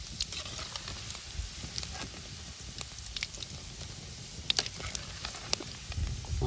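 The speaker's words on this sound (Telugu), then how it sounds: "బాగా వేయించుకోవాలి ఆయిల్లోనే" Chicken keema balls fry in hot oil, a continuous close crackling sizzle with scattered sharp pops and spits, steady in level and with no talking.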